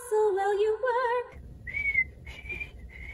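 A person whistles a bright, tuneful melody, first a few sustained wavering notes, then a short pause before higher, shorter whistled phrases, heard close and alone.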